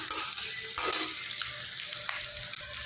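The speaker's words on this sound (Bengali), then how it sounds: "এবার একটু হালকা করে নেড়ে নেব।" Mashed eggplant with tomato and green chilli sizzles and fries in a pan while being stirred, a steady close crackle with brief scraping strokes and no voices.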